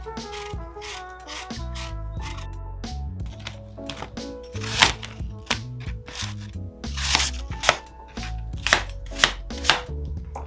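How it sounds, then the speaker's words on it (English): An apple is peeled and chopped into small pieces on a board, with repeated knife strikes and scraping peeling strokes, close and crisp, in an irregular rhythm that grows sharper and louder toward the end. "We're gonna peel and core our apple and chop it up into little pieces."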